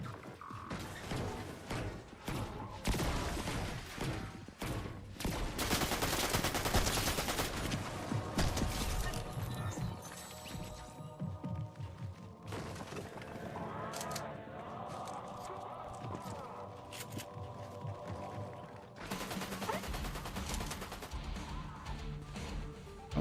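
Bursts of NPC gunfire in the Fortnite video game, loud rapid volleys and cracks that come and go over a busy game mix, with no talking.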